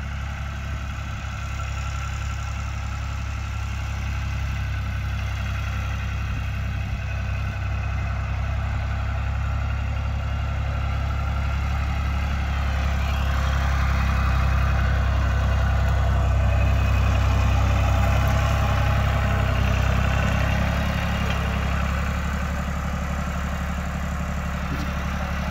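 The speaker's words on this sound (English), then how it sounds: "here comes Lori back from getting air in the tire, front tractor tire" A tractor engine idles steadily nearby on a farm, a deep continuous rumble with no talk, holding an even level throughout.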